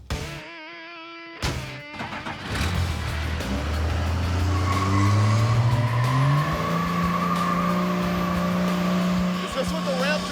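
A ramp truck with a Cummins 12-valve diesel and a gear-star transmission revs hard and spins its tires, a rising engine roar joined by screeching tire squeal that holds steady and loud for several seconds after a brief burst at the start.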